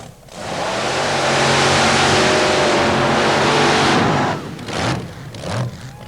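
A paddle-tire mud racing car launches hard off the starting line at a 1990 mud race in Bayou George, Florida, its engine roaring loud and continuous for about four seconds before dropping away into fainter rumbles.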